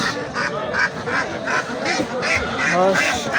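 Several ducks, local and Muscovy, quack repeatedly in a loud, overlapping chorus at a poultry market, close by, with a nasal rhythmic cadence.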